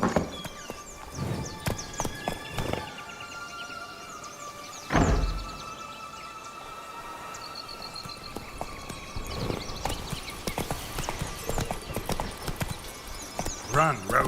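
Roach the horse galloping in The Witcher 3, steady clip-clop hoofbeats under game music and effects, with a heavy thump midway and a voice speaking.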